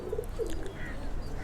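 Pigeons on a rooftop give a few soft, brief coos against faint background noise.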